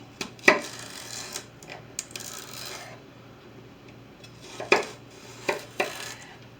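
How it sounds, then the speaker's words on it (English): Sharp chef's knife strikes against a cutting board chopping celery sticks, a few scattered chops with pauses between them, close by and fairly quiet. "I'm going to chop my celery into small pieces."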